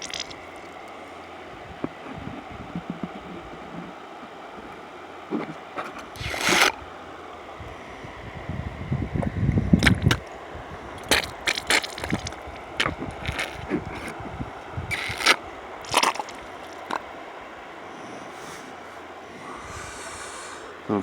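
A suction tool pulls small pieces of gold from a pan beside the Lewis River, giving sharp, irregular slurping and rattling bursts over a low rumble, with quieter stretches in between.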